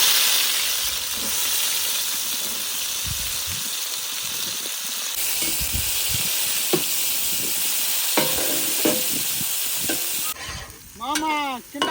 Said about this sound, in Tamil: சுத்தமான பாமாயிலே கிராம்பு, இந்த வெங்காயம், காம்புகள்ல பச்சை மிளகா தள்ளிக்கோ.